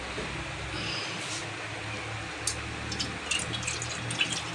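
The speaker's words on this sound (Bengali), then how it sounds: "একটু এখান থেকে সামান্য জল দিয়ে দেবো" A little water poured into greens cooking in a pan, a steady close hiss and trickle with a few small splashes and clinks toward the end, no talk.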